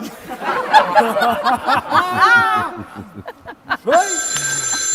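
A telephone rings with steady, sustained tones near the end of the clip, following a stretch of chuckling and lively voices.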